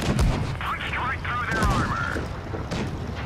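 A Super Hellcat tank destroyer fires its cannon in World of Tanks Blitz, a sharp crack and boom early on followed by another heavy shot, with engine rumble and game effects running beneath continuous commentary.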